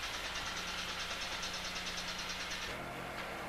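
An asphalt paver's engine runs with a steady, loud mechanical drone and a low rumbling hum during road paving, with a slight shift in tone near the end; no voices.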